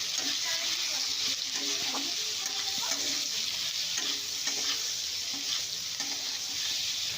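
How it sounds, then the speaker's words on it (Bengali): Chicken pieces fry with salt, turmeric, chili powder, sugar and pepper, crackling in a continuous bright sizzle while a spatula stirs and scrapes, with no one speaking. "একটু নেড়ে নেব।"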